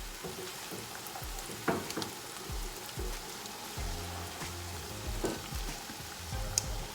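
Peppered beef and egg stew sizzles steadily in the pot after eggs are added, a dense crackling fry with occasional soft pops and scrapes, close and continuous with no voices.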